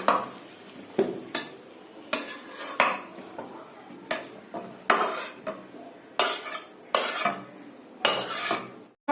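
A utensil scrapes and clinks against the metal of a pressure cooker while ingredients are mixed into boiled tengra fish, in repeated short bursts with pauses between strokes, close and fairly loud.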